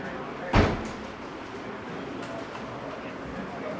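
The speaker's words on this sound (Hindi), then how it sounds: "दरवाज़ा बंद कर लो भाई पीछे से" A classroom door is pushed shut with a single sharp thud near the start, followed by quiet room ambience with faint voices in the background.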